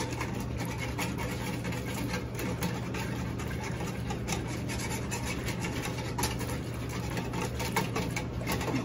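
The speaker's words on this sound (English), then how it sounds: "I'm going to keep whisking so that doesn't stick to the bottom." A whisk scrapes steadily around a pot as cheddar cheese is stirred into a casserole sauce, a continuous rhythmic scratching close by with a low hum underneath.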